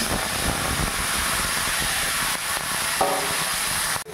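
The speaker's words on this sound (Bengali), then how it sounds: "তেলটা গরম হয়ে গেছে, বরবটি আর গাজর ঢেলে দিলাম" Yardlong beans and carrots hit hot oil in a pan, a loud, constant hissing sizzle close by that dips briefly before ending with a sharp knock.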